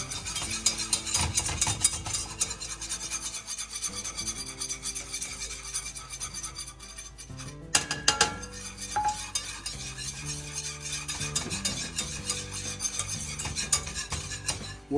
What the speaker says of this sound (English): We're just going to kind of whisk in.